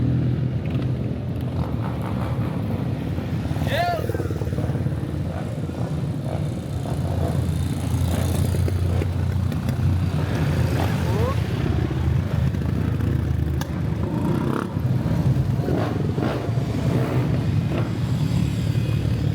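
Motorcycles climb the winding Serra do Rio do Rastro mountain road, a continuous engine drone rising and falling as bikes pass one after another, with faint clatter in the background.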